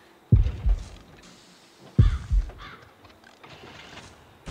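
Heartbeat in the horror game Horrorfield: two heavy low thumps, each a quick double beat, spaced about a second and a half apart, standing out loud and close over faint game ambience with no talk.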